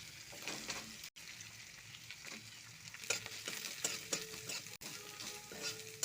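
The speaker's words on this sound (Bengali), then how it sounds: "বিনসগুলো যাতে একটু ভাজিয়ে যায় ভালোভাবে, তাহলে সিদ্ধ হয়ে যাবে।" Beans and carrots frying for veg noodles are stirred in a pan, a continuous soft sizzle broken by scraping strokes and light clinks of the spatula against the metal, close and fairly quiet.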